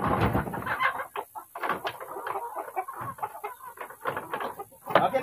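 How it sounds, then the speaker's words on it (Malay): Rhode Island Red chickens cluck and chatter busily at close range in a farmyard, overlapping calls rising and falling continuously with a brief crow-like burst near the end. "Ni ayam RIR"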